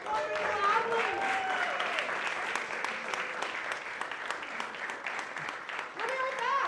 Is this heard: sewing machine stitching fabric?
no